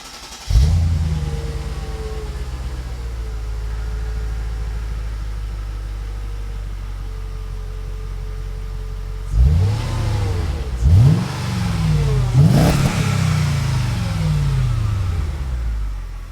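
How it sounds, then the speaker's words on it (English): A Mercedes car on its stock factory exhaust starts up and idles steadily, then gives three quick revs in succession near the end, each rising and dropping back, heard alone without talk. "I'm going to show you what it sounds like stock,"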